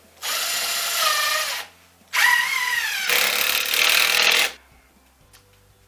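A power drill drives a screw through a board into a wall stud in three close whirring bursts, the motor note rising and falling, with brief quiet gaps in between.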